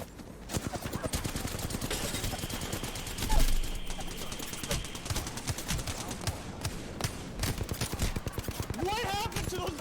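Rapid, continuous gunfire from a shooting video game, dense bursts of shots and machine-gun fire running nearly nonstop at steady loudness, with a voice occasionally audible in the mix.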